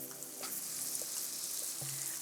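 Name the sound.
sauteing garlic, ginger and wet seasonings in coconut oil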